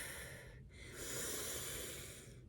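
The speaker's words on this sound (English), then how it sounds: "A nice forceful exhale" A forceful exhale during a deep breathing exercise, pushed all the way out as a long breathy rush that swells and holds, with a brief breath earlier on, close and alone.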